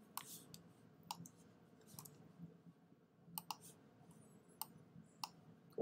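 Computer mouse clicks while dragging, a handful of faint, sharp, close ticks spaced irregularly over a quiet background.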